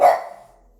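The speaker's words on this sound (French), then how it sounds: "Désolé pour les aboiements." A single sharp dog bark rings out close by and loud, then decays quickly into quiet.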